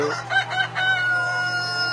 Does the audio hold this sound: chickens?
yes